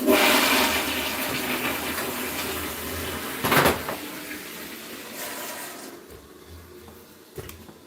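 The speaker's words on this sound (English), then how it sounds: "It's time to flush the toilet." A home toilet flushes with a loud rushing surge of water that gradually drains away and fades into quieter trickling, with a brief clunk near the end.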